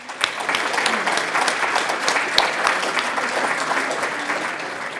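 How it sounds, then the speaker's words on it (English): Steady audience applause at an awards ceremony dinner, honoring the serving staff, with a dense, continuous patter of many hands clapping and a few sharper, closer claps standing out. "Another big round of applause to the staff tonight serving the meal."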